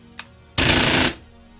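Cybergun FAMAS airsoft gun firing on gas: one sharp shot, then a loud half-second burst of rapid automatic fire, close and harsh, then quiet.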